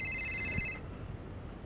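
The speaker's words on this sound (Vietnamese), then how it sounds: "Cái điện thoại kìa." A mobile phone rings indoors with a bright electronic ringtone for under a second, then stops, leaving quiet room tone.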